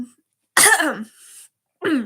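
A throat-clearing cough rings out close by, followed a moment later by a second short cough burst, with silence between.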